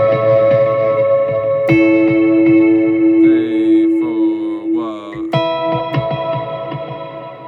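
Chimey plucked guitar line with quarter-note and eighth-note delay repeats, bright ringing notes trailing into echoes and a sustained tone, with a brief wavering sliding figure in the middle, loud and alone with no voices.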